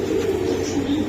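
A young racing pigeon gives a short, low cooing call, close and clear over a faint background hum.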